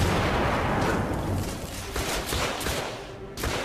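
A grenade blast in The Order 1886 during a firefight, a loud rumbling explosion blending into surrounding gunfire and battle noise that stays heavy throughout.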